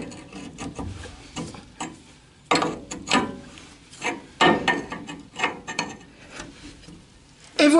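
Wrench turning a 23 mm nut on the rear axle of a Citroën Traction 11B, repeated close metallic ratcheting and scraping strokes in uneven bursts, alone with no talk.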